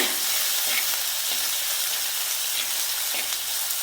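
Crushed ripe kanthari chili and curry leaves sizzling in a pan, a dense continuous hiss with faint stirring scrapes, close up and without talk.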